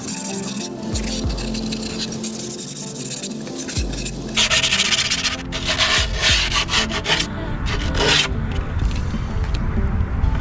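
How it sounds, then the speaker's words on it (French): Folded grip tape is rubbed hard around the edges of a wooden skateboard deck, making a continuous loud, close scraping and rasping friction noise with brief pauses and changes in pressure. "Et vous frottez tout le tour histoire en fait d'abaisser un petit peu le grip pour qu'il colle bien à la planche"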